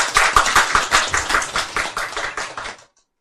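An audience at a Buddhist sutra lecture claps in a dense, steady burst of many hands, loud and close, lasting a few seconds before stopping abruptly.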